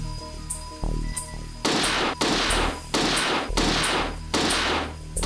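Video game gunfire from an Alien game on the Sega Saturn: a steady run of loud, sharp shots in a regular rhythm, about one every half second or so, over a low droning background.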